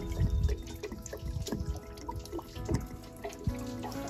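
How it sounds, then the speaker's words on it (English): Water draining from the plug of an RV hot water heater, a steady watery trickle and splatter with irregular drips and splashes, close by, no talking. "pull this plug and your hot water heater drain"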